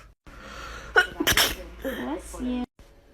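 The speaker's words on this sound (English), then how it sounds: "I just sneeze." A single loud, close human sneeze with a sharp burst of breath, surrounded by brief voice sounds and room noise.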